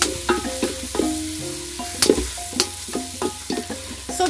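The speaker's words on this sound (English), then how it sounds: "Before they get burnt, I'm going to add the carrots. Saute them a bit before adding the tomatoes." Carrots being sautéed in a frying pan over an outdoor village cooking fire, with a steady sizzle and repeated scraping stirs and clinks of a utensil against the pan.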